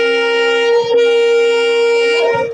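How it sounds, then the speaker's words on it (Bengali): A train horn sounds loud and sustained as the train approaches a station on the route from Kumarganj to Malda, one long steady blast with a brief dip near the middle and no talk. "হর্ন তো শুনতে পাচ্ছ, এখন আসছে ট্রেন"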